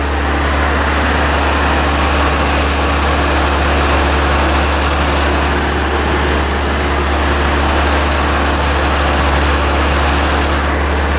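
A Mercedes G-Wagen engine idles loudly and steadily with a constant low rumble and hiss, unchanging throughout, no voices.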